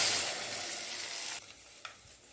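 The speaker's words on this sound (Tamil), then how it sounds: "இப்போ புளி தக்காளி கரைச்சி வச்சு ஊற்றிக்கலாம்." Tamarind and tomato water poured into a hot pan for rasam sets off a loud sizzle that cuts off sharply, followed by quieter bubbling with a small clink.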